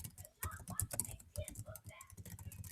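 Fast, close typing on a computer keyboard: a dense patter of quiet key clicks with an uneven rhythm, faint under low background sound.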